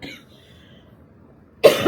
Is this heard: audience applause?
no